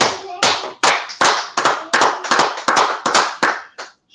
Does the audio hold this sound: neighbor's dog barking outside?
no